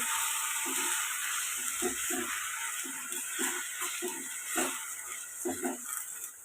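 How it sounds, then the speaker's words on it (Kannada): Fenugreek leaves sautéing in oil over a slow flame for an egg stir-fry give a soft, steady sizzle with scattered stirring scrapes and small pops, heard close and alone. "ಮೆಂತ್ಯ ಸೊಪ್ಪನ್ನು ಹಾಕೋಣ ಅದನ್ನು ಎಣ್ಣೆಯಲ್ಲಿ ಸ್ಲೋ ಫ್ಲೇಮಲ್ಲಿ ಇಟ್ಕೊಂಡು ಇದನ್ನು ಬಾಡಿಸಿ"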